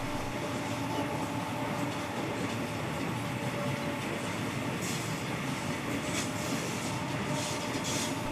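A Waratah A set electric passenger train in New South Wales rolls past at steady volume, giving a continuous rumble with wheel and rail noise and a few faint brighter squeals.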